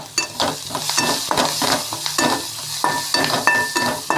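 Onions sizzle and hiss in a hot frying pan while a utensil stirs and scrapes in repeated bursts, close up.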